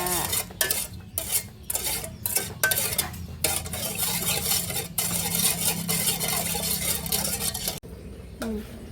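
Sugar melting in a pan for sweet fried mushrooms, with continuous stirring scrapes, clinks of a utensil against the pan and a faint sizzle underneath.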